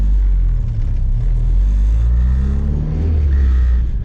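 A stock Honda D16Y7 car engine, turbocharged at 18 psi, drones loudly, its low pitch rising steadily as the vehicle accelerates through a gear change, close and continuous.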